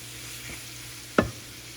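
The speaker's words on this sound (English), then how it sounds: "we're just going to cook this until our ground beef is brown" Ground beef sizzles steadily in a pan while a utensil scrapes and stirs it, with one sharp clack partway through; no voices.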